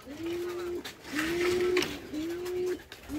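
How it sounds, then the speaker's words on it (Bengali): Pigeons coo inside their loft in three drawn-out, rising-and-holding calls spaced about a second apart, close and clear against faint room noise. "এই যে কবুতর এভাবে উপরে থাকে"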